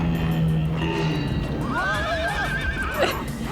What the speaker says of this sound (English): Did the dog just neigh?